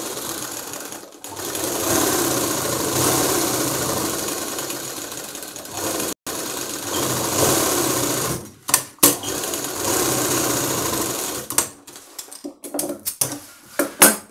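A sewing machine stitches the lining of an embroidered maggam-work blouse back, running in steady close bursts with brief pauses and stop-start runs toward the end.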